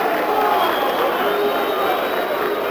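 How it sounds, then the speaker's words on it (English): A boxing arena crowd at the Roberto Duran versus Pat Lawlor fight keeps up a steady, dense roar of booing and jeering, a continuous wash of many voices that never lets up through the stretch. "the crowd continues to boo"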